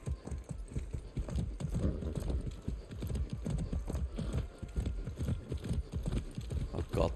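A horse's hooves clip-clop steadily in Far Cry 6, a quick, even rhythm of close thuds that continues throughout with a faint hum behind it.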